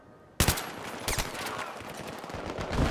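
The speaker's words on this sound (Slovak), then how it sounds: "Zo strechy strieľa" Rapid automatic gunfire in the video game Battlefield 3 during co-op play, a sharp burst onset followed by repeated crackling shots and a dense rattling volley that swells toward the end.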